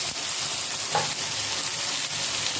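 Ridge gourd cooks with shrimp in a pan for a light curry, producing a dense, steady sizzle close by, with a brief stirring scrape partway through and no talk.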